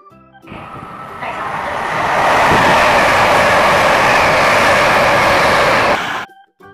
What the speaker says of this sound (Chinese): 高铁 High-speed rail.